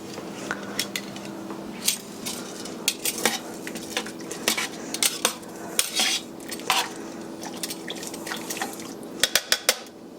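Spoon clinking and scraping against a crockpot while long grain white rice is stirred into turkey carcass soup, with intermittent sharp metallic taps over a low steady hum, nobody speaking.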